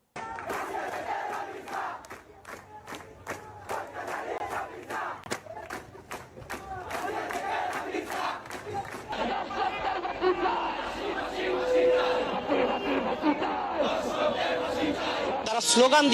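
Street protesters demanding justice for the murdered girl Ramisa chant slogans in unison, a loud crowd repeating rhythmic shouted calls over a continuous din of voices and chatter.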